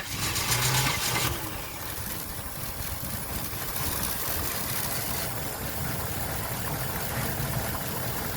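A Chevrolet Caprice 4x4 project engine cranks over and over without catching, a steady mechanical churn that is slightly louder at first and then continues evenly throughout.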